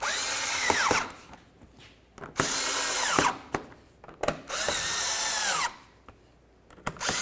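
Three bursts from a power drill snugging the bolts on a 2006-2012 Ford Fusion fog light bezel, each a steady whine that winds down, with clicks and short gaps between, close and fairly loud.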